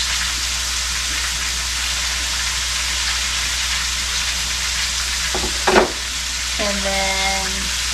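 Green peppers thrown into a hot pan while cooking Swiss elk steak give a steady, close sizzle that holds through the whole stretch, with a brief clatter and a short voice near the end.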